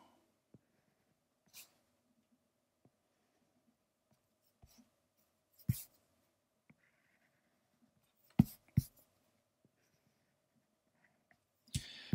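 Pencil outlining on paper for a drawing, with sparse, faint scratching strokes and a few sharper taps or scrapes scattered through a quiet stretch, close up and without speech.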